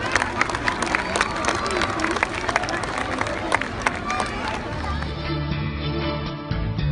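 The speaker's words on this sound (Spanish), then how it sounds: "Un fuerte aplauso para ellos." A street crowd greeting the Three Kings at a celebration in Morelia claps and cheers, with sharp individual claps over a busy murmur that thins out toward the end.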